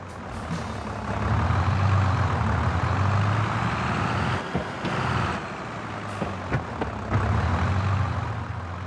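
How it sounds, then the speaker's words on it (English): A manual-transmission truck in Farming Simulator 22 rumbles loudly, its engine rising and settling with audible gear-shift clunks and brief mechanical knocks breaking the steady drone. "For all vehicles that have manual transmission, we have also added gear shift sounds."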